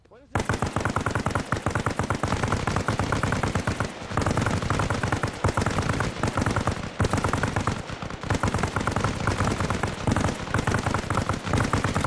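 Sustained automatic gunfire in Arma Reforger during a squad raid training exercise, loud, close rapid bursts rattling almost continuously with brief pauses, with radio chatter and voices underneath.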